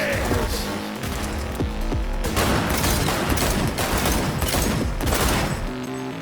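Gunfire in the video game Cyberpunk 2077, a loud continuous barrage of rapid shots and impacts layered with game music and effects.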